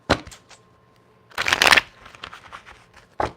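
Tarot cards being shuffled for a reading, a short riffle at the start, a louder, longer ruffling burst in the middle and a brief snap of cards at the end, all near the microphone.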